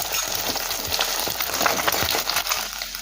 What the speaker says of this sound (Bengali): তেল কড়ার চারিপাশে খুব ভালোভাবে লাগিয়ে নেব। দেবো ডিম। ডিমটাকে ভেজে নেব।